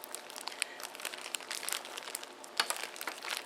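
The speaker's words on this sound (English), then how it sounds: "I cut off the end of it with my kitchen scissors." Kitchen scissors cut open the end of a plastic bag of frozen mixed vegetables, a close, crisp run of crinkling and snipping plastic with irregular bursts and a sharper crunch near the end, no talking.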